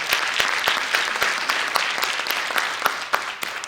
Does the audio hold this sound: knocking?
no